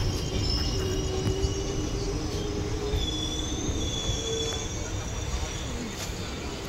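A passenger train on the Konkan route from Kankavali runs on the tracks with a loud continuous rumble, squealing wheels and faint rhythmic clatter heard from inside.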